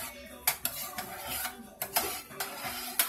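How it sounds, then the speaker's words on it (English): Spaghetti and meatball mixture stirred in a pot, giving several sharp utensil clinks and scrapes at an irregular rhythm, close and fairly quiet, with no talking. "so then you're gonna stir it"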